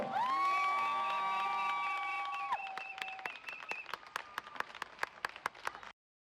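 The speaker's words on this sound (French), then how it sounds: "On applaudit très très fort, s'il vous plaît." An audience applauds at an award presentation on a television show: a sustained shout and cheer open a burst of clapping that thins into sparse, sharp individual claps before stopping abruptly.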